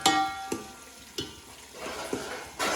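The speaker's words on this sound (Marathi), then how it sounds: "टमाटर थोडा एक परतून घ्यायचा" Tomatoes sauté with onion, whole spices and green chilli in a pan over a wood-fired clay stove, with a soft, steady sizzle broken by a few sharp scrapes of a stirring spoon.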